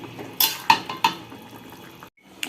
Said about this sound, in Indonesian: Dan kita aduk-aduk lagi sampai kuahnya ini meresap di tempenya.